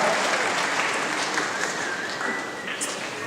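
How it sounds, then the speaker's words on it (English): Audience applause at a Tuba Christmas concert, a dense, steady wash of many hands clapping that holds at an even level throughout, with faint voices mixed in. "You can clap for yourselves."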